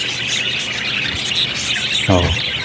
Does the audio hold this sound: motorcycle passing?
no